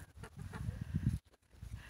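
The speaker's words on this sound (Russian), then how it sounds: "Гуси сразу гагакнули." Geese in a yard give a short burst of honking and cackling calls, close and moderately loud, then pause briefly before a softer call.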